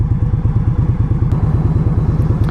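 A 2016 Indian Scout cruiser motorcycle engine runs steadily and loud up close, with a rapid, even low pulsing throb and no talking.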